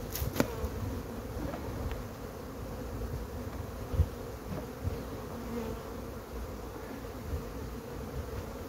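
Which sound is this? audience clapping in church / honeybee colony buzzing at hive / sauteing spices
honeybee colony buzzing at hive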